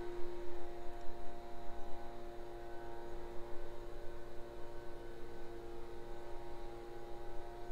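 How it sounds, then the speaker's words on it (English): A leaf blower runs outside a Kentucky house, heard from inside the kitchen as a steady, muffled droning hum with even tonal overtones, continuous and moderately loud for the whole stretch, with no talking over it. "He is doing the leaf blower."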